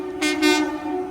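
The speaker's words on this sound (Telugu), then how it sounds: "పక్క ట్రాక్లో ఏదో ట్రైన్ వస్తుంది." A train hauled by a VAP4 electric locomotive rolls along the adjacent track, a steady rumble with two short bursts of horn or rushing noise, fairly close.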